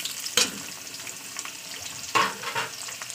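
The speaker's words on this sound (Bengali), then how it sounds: "পেঁয়াজটাকে একটু ভাজা করে দিতে হবে।" Sliced onions fry in hot oil in a pan for a home-cooked potato and yardlong bean dish, a steady soft sizzle broken by two sharp scrapes of stirring.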